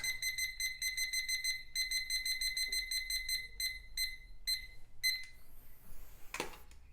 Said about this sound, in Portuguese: E agora eu coloco o timer para 30 minutos.